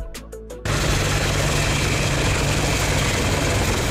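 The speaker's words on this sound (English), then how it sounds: "Military Helicopter" A military helicopter's engine runs as a steady, loud, heavy roar with a low rotor drone, preceded by a brief tonal chime before the engine noise takes over.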